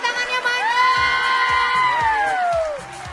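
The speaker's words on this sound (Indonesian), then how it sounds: "Tepuk tangannya mana?" A crowd of fans at a live variety show cheers and whoops loudly for about three seconds, with excited shouting voices rising together and sustained yells that taper off near the end.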